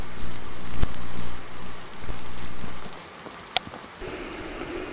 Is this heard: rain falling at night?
yes